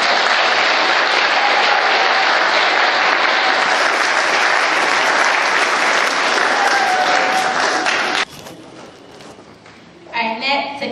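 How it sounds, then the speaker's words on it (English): Sustained audience applause from people gathered at an evening Dr. Martin Luther King program at a church, loud and dense for about eight seconds, then tapering into scattered claps with brief voices at the end. "Please give yourself a round of applause."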